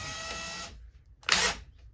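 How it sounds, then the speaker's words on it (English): A power drill whirs steadily for about two-thirds of a second and then stops, followed by a brief louder burst near the end, heard close up with no talking, during sewing-machine crafting on a Janome Memory Craft 6600. "I use it in my drill because it goes slower and it's less apt to cause a lot of damage"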